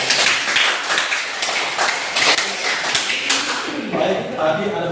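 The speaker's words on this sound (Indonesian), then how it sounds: "Tepuk tangan dulu Kak." A classroom of students claps their hands together in a rhythmic, patterned group clap, filling the room steadily for several seconds before it trails off into softer noise.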